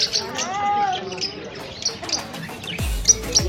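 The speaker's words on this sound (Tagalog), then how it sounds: "Ayan, ang ganda ng mga ibon" Birds chirping inside a bird shop, with short high tweets and a brief whistled call scattered over a busy indoor background, followed by a low thump and clatter near the end.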